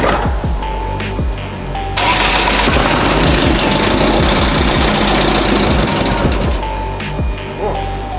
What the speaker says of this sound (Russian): Ну это ж машина заводится.